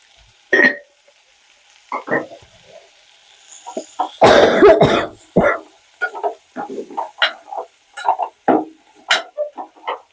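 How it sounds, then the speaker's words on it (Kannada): A person with a cough and cold coughs, with one heavy, rough burst of coughing in the middle among scattered smaller clicks and bumps nearby. "ವೆದರ್ ಹಿಂಗಿರೋದ್ರಿಂದ ಸ್ವಲ್ಪ ಕೆಮ್ಮು ಕೋಲ್ಡು ಜಾಸ್ತಿ ಆಗಿದೆ"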